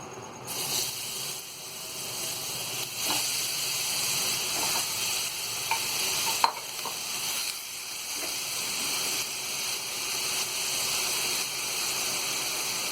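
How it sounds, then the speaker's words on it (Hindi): Mutton sizzles and crackles steadily in a hot wok, a close, continuous frying hiss with occasional pops and scraping clicks. "अब एक कढ़ाई में हम ये मटन डालेंगे।"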